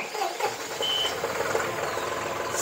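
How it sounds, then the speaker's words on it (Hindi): A 2022 John Deere 5405 CRDI tractor starts up, its diesel engine catching after a brief crank and settling into a steady, close rumbling idle. "ट्रैक्टर अब स्टार्ट करके भी देखते हैं साउंड वगैरह कैसी है"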